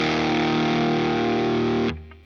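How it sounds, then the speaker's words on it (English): Electric guitar played through a RAT distortion pedal, a thick sustained distorted chord ringing loud and steady for about two seconds before being cut off, leaving faint residual noise. "Very classic distortion."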